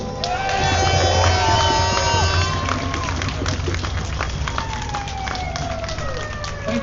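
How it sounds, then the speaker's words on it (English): A dense indoor crowd at a political rally cheers and applauds a speaker continuously, loud and steady throughout, with shouts and whistles mixed into the roar. "I would like you to give a huge round of applause to Peter Ford"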